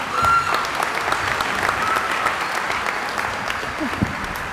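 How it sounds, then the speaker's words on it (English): A commencement ceremony crowd claps steadily, a thick sustained round of applause at moderate volume with occasional louder claps and a few faint voices in the mix. "Give her another round of applause."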